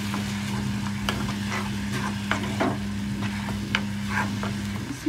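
Fish curry sizzles and fries in a pan, a steady close hiss with a constant low hum beneath and scattered scraping stirs and light taps throughout.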